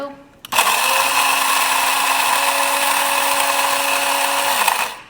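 A KitchenAid coffee grinder whirs steadily through coffee beans for about four seconds, a loud, close, continuous motor drone with a steady tone, starting abruptly and winding down at the end.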